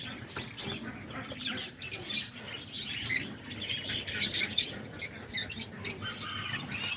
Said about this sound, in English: It's peach face lovebirds.